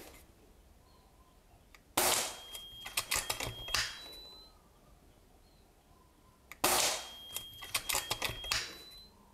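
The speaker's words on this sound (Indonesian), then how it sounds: "Dan sekarang kita tes untuk nembak metal slate-nya bos." A PCP air rifle fires at a metal plate target, with two sharp cracks about five seconds apart, each followed by a quick run of clattering metallic rattles and pings that die away.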